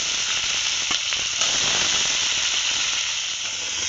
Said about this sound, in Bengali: এবার দিয়ে দিচ্ছি কেটে রাখা আলু